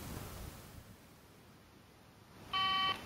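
An old mobile phone with a NiCad battery, low on charge, powering on after decades in an attic, giving a short clear electronic beep near the end that follows quiet room noise.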